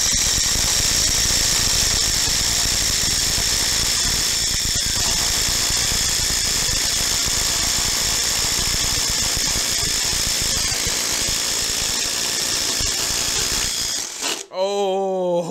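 A Ryobi P238 impact driver spins a 1-inch paddle bit into wood, a loud, sustained high-pitched whine that runs unbroken for about fourteen seconds before cutting out.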